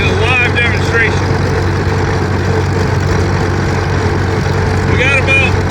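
A Farmall M tractor engine runs steadily under governor control on the road, a constant low drone throughout with occasional voices speaking over it.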